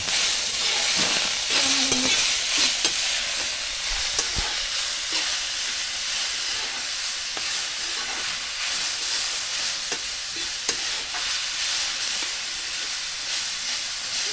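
Onion, garlic and tomato fry in a pan on a wood-fired stove, a loud, constant hissing sizzle close by with occasional stirring knocks throughout.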